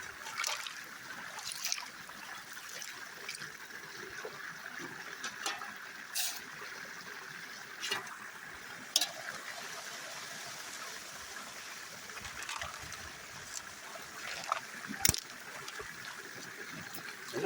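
Water running from a gold dredge rerunning tailings, a steady trickling, splashing flow with occasional sharper splashes and knocks, close and fairly quiet.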